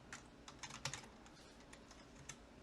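Quiet, quick tapping on a computer keyboard, a run of light key clicks in an uneven rhythm, heard close up and alone.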